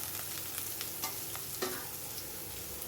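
Green chilli and garlic cloves join sliced onions frying in a pan for drumstick curry, a steady sizzle with a few sharp spatula taps and scrapes, close and without talk.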